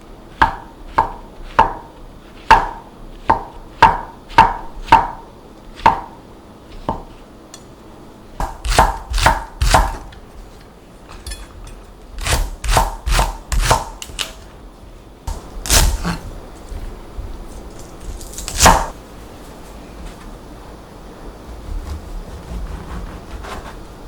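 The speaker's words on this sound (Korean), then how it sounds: "표고 먼저 슬라이스 해줄게요." Shiitake mushrooms sliced with a knife on a board, a rhythmic run of crisp, close chopping taps, then uneven bursts of quicker cuts with short pauses, no speech.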